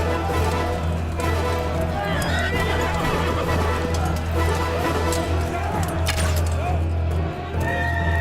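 Horses whinny and neigh in a Genghis Khan battle scene, mixed with hoofbeats and shouting voices in a loud, busy field of sound.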